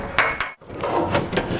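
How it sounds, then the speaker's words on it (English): A hammer and dolly working rusted sheet metal on a Chevy or GMC truck front fender after welding, giving a quick series of sharp metallic taps with a short pause in between, close and moderately loud. "I'm hammering and dollying, and I'm getting welds on the inside too."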